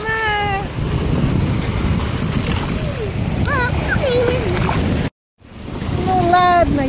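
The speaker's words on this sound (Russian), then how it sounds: "как волны плещутся и разбиваются о скалы" Waves splash and break against rocks in an animated cartoon, a continuous rushing wash of water under high, sliding cartoon voices, with a brief silent dropout near the end.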